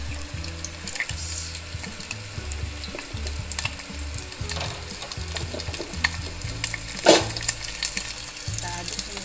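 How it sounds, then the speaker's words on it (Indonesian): Garlic frying in oil in a Tupperware Tchef pan, sizzling steadily throughout with repeated stirring scrapes and clinks in a close kitchen, with no talking. "kita tumis bawang putihnya dulu."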